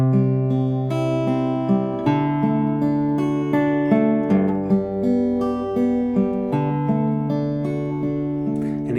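Fingerpicked acoustic guitar plays a full accompaniment as a beginner arrangement, steady arpeggiated chords ringing over open bass strings, clear and close with no voices.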